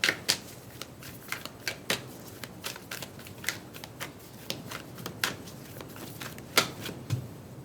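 Tarot cards being shuffled by hand, a steady run of quick, crisp riffling clicks and soft slaps close by, with no talking.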